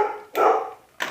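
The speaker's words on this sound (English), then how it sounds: "Oh, puppy." A puppy gives two short, close barks with a brief pause between them, heard alone.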